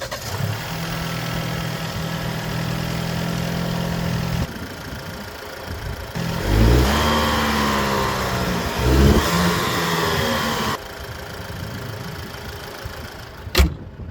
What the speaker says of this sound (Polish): Silnik jak to silnik, 4-cylindrówka brzmi zwyczajnie